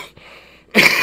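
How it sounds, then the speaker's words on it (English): A single loud, close cough blasts into the microphone, breaking abruptly out of near silence and lasting about a quarter second. "We'll cough into the mic as loud as we possibly can."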